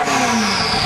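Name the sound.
Ferrari F40 V8 engine revving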